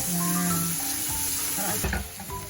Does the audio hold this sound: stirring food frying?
yes